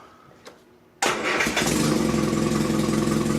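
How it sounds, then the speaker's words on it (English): A classic Mini car engine cranks briefly and catches, settling straight into a loud, steady idle close by, with a slight exhaust leak. "That's a running mini engine."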